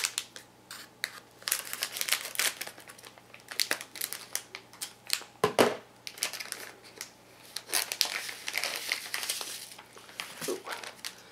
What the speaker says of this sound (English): Need to cut this open now.